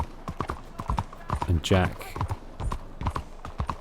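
Horse hooves clip-clop in a steady walking rhythm in Red Dead Redemption 2, close and clear, with a voice talking over them and a brief louder burst partway through.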